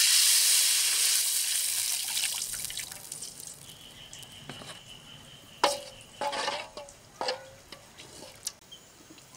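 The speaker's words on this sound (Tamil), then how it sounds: "இப்போ கரைச்சி வச்சுருக்க சாந்தம் வந்து இதோட ஊற்றிக்கலாம்." Ground masala paste is poured into hot oil with sizzling fenugreek for a fish curry, giving a steady hiss that fades, then a few splashy drips and gurgles near the pan.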